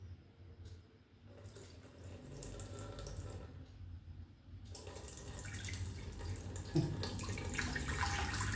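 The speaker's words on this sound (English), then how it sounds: "Now let me put some water into this container." Water poured steadily into a container for a classroom refraction demonstration, a continuous close splashing stream that swells and fills over several seconds, with a brief knock partway through.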